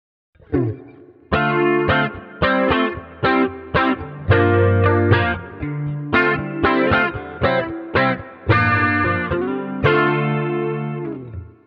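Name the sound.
guitar amp chorus effect with reverb and delay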